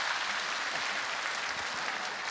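A church congregation applauds at a sermon gathering, a dense, steady burst of clapping that holds evenly for a couple of seconds.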